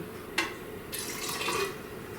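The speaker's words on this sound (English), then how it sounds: "So I'm going to put a little water in there now." Water is poured into a container holding candy canes to make floating candles. A brief splash is followed by a soft, steady trickle of filling liquid lasting about a second, close and quiet, with no talking.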